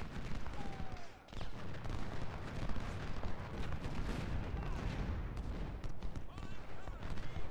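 Artillery and massed gunfire rumble across a Civil War battlefield at Chickamauga in the video game Ultimate General: Civil War, a dense, continuous barrage of booms with faint voices mixed in.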